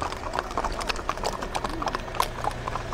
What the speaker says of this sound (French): Le peloton de surveillance et d'intervention à cheval fait sa tournée dans la tribu de Naketi.